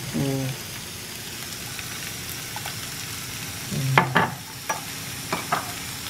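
Food sautés in a pan with salt and a little water added, a steady close sizzle with occasional stirring scrapes and clinks; a voice is heard briefly.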